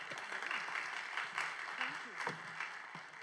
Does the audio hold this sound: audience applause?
yes